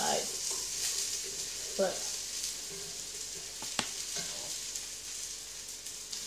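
Tomatoes frying in a cast iron skillet hiss with a steady, soft sizzle, punctuated by a few scraping and clinking touches of a utensil, while a person talks briefly.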